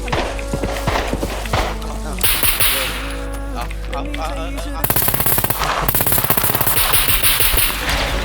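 Gunfire in a shooting video game: rapid bursts of automatic fire and sharp single shots, dense and loud, with players talking excitedly over the action.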